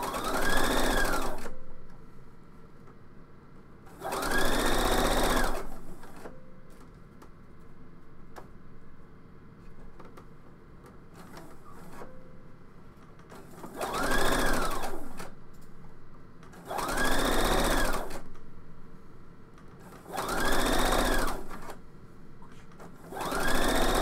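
A sewing machine stitches fabric in six loud, rapid bursts of mechanical whirring and needle clatter, each lasting about two seconds, separated by quieter pauses with faint clicks and handling noise.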